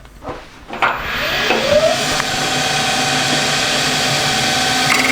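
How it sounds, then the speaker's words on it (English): A parting tool bites into spinning wood on a lathe turning at about 1200 RPM, a loud continuous hiss that starts abruptly after a few soft knocks, with a rising squeal as the cut settles. "Now I've got a parting tool here, and I'm going to part off about 5mm"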